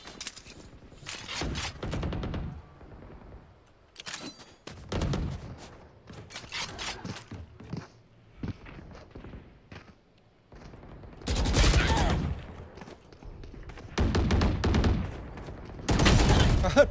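Rapid gunfire from Valorant during a ranked match on the Breeze map: loud, close bursts of shots and brief volleys separated by short pauses, with quieter game sounds in between.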